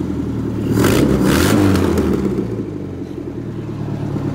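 An owner-type jeep that had been stored for six months revs its engine, a loud close rumble that swells into a throttle burst then settles to a rough idle, with a cracked, leaking exhaust.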